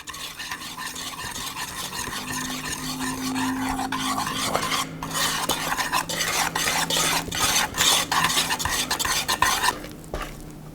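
A spoon or spatula stirs chocolate cake batter of cocoa powder and flour for a Swedish sticky chocolate cake (kladdkaka), giving a steady, close, continuous scraping and swishing against the bowl with no talking.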